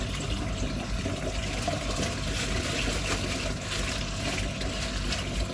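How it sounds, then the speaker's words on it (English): Dirty water is poured out of a fish bowl: a steady, close rush of sloshing liquid that fills the whole stretch without pause or talk. "So I don't want that shitty water in the bowl or the tank"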